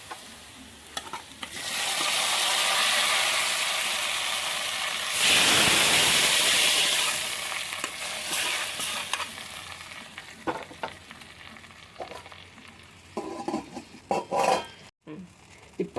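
Fried onion and mustard seed tempering is poured into a Palakkad-style pulingarry tamarind curry. A loud hiss flares up, surges midway and then fades into softer bubbling and scattered clinks of utensils.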